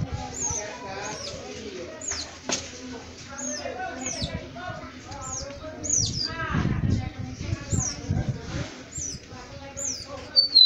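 A small Bigodeiro (Lined Seedeater) chirps and peeps repeatedly in short, high calls over soft background noise, with occasional rustling nearby.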